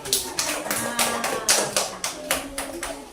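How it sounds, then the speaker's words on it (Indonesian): Hands clap together in a classroom at an elementary school, giving about ten sharp, evenly spaced claps at close range. Faint voices sit underneath. "Nah, tepuk tangan sama."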